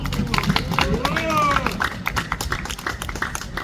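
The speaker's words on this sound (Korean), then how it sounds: "우리 전방을 지키고 있는 해병 용사들에 대해서 큰 박수 한번 해주시기 바랍니다" A crowd at an outdoor protest rally claps loudly and continuously, with shouts and voices mixed into the steady applause.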